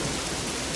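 A brief burst of heavy rain, a dense, even hiss of pouring water with a low rumbling undertone, continuous and close.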